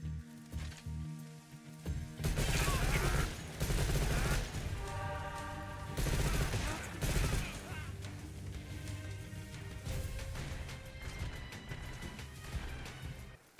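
Heavy gunfire crackles in the video game Metal Gear Solid 3: Snake Eater, loud bursts and rapid repeated shots filling the mix with no voices over them.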